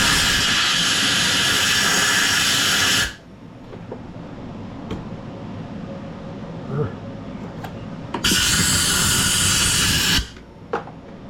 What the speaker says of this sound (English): Let's blow that fuel tank out